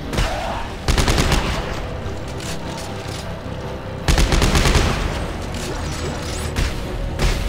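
Rapid bursts of automatic gunfire from the Dead Space video game rattle loudly and up close, with a dense stream of shots that surges twice.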